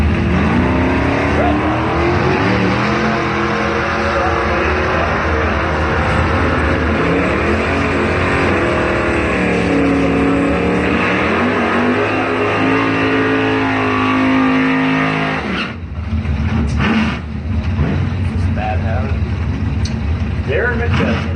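Drag racing cars launch and race side by side in round 2 eliminator action, a loud sustained engine roar with rising revs filling most of the stretch before cutting off near the end, with a track announcer talking over it.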